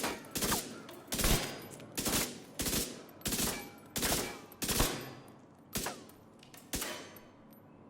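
Submachine gun in The Division 2 firing half of a 51-round magazine as a string of about eight loud, evenly spaced bursts, each a sharp crack with a fading tail.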